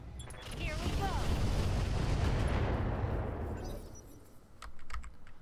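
Mech weapons in the Roguetech game unload in one long, heavy roaring barrage that fades away, followed by a few sharp clicks and a short thump.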